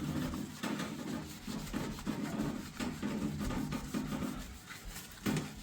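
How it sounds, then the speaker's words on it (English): A sponge scrubs back and forth in the grooves of a kitchen counter, making a close, rhythmic rubbing scrape with short repeated strokes. "I'm pushing the sponge into those grooves with my thumb and my index finger like that"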